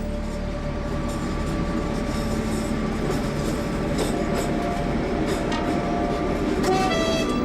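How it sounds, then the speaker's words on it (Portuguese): The Sud Express passenger train pulls out of Santa Apolónia station in Lisbon, bound for Paris. A steady low rumble of railcars runs throughout, with rolling wheel noise and faint metallic squeals near the end. "o Sud Expresso parte da estação de Santa Apolónia, em Lisboa, com destino a Paris"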